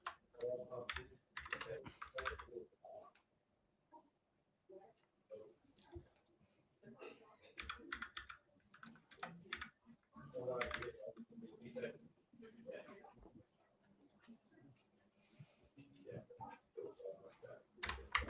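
Someone types on a computer keyboard in irregular bursts of close, crisp clicks with pauses between them, amid faint breathing and scattered speech.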